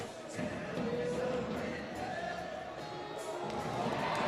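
Indoor soccer crowd in an arena at the MASL Championship Series between the San Diego Sockers and Florida Tropics, roaring steadily and loudly after a possible handball, a dense sustained wash of voices with no single sound standing out.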